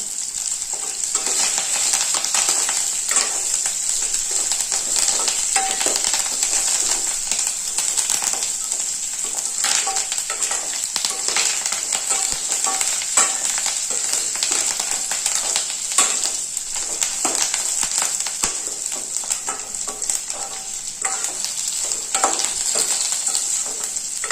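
Grated coconut, onion and curry leaves frying in a pan as fish curry is prepared, a steady bright sizzle holding on throughout with faint stirring scrapes and no talking.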